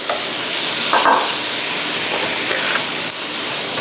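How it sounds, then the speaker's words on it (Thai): Rice being stir-fried over high heat with curry powder and chicken in a hot pan, a steady close sizzle with scraping stir strokes throughout and no talking. "ผัดให้เข้ากันดีนะคะ"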